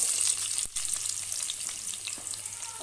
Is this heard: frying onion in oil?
yes